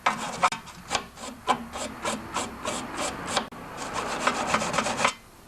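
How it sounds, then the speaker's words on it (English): A soft wire brush scrubs a snowblower carburetor in quick, rhythmic rasping strokes, close and fairly soft, with no talking. "Now to clean this carb, I've got a soft wire brush."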